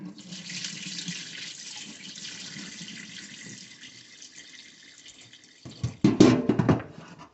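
Cold water runs steadily from a kitchen tap while cooking spaghetti at home, a fairly soft continuous stream that turns splashier and louder near the end as the flow hits something in the sink.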